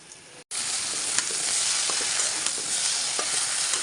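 Boiled, salted greens drop into a pan of fried onion, garlic and chilli, setting off a sudden loud, sustained sizzle after a brief pause, with faint scraping stirs throughout.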